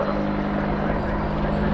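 An Apache attack helicopter maneuvers at an air display, a steady droning rotor and engine roar at a distance, with a commentator talking over it throughout.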